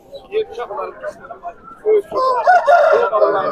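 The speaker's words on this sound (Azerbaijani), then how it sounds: "Eyrati xoruzumuz var burada bir dənə." A rooster at a poultry market crows loudly and nearby, with clucking around it and people talking over the bird.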